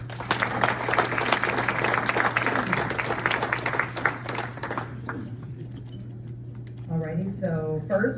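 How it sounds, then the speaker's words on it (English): An audience applauds a speaker at a barn event venue, brisk clapping that thins out after about five seconds, followed by a voice beginning to talk over a low steady hum. "If you could give Mr. Buchanan a round of applause."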